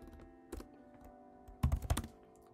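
A computer keyboard is tapped to type and enter a folder-sorting command, a few faint single clicks followed by a quick close cluster of keystrokes near the end.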